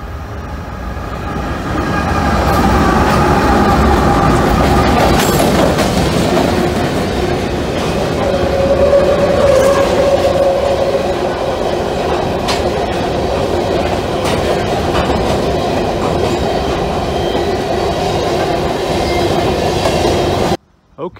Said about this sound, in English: We got a train coming. Check it out. A northbounder.